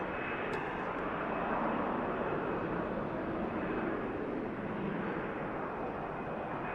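A KLM airliner from Amsterdam on short final at Manchester Airport, heard as a steady, broad jet roar that stays loud and even throughout, with no talking.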